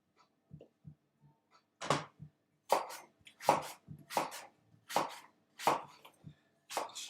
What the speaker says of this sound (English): Just chopping it up.